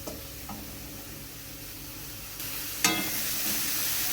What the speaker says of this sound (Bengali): মশলাটা আবারও ভালোভাবে নেড়ে নেব যাতে কাঁচা গন্ধটা চলে যায়